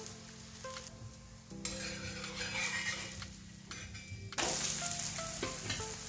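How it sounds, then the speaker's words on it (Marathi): Thalipeeth, a fasting-style flatbread, roasting in ghee on a pan, with a steady loud sizzle and a few scraping, stirring sounds and clinks of metal, growing louder near the end. "खरपूस असे दोन साईडनं भाजून घ्यायचे"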